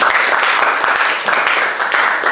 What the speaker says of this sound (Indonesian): tepuk tangan buat Tarisya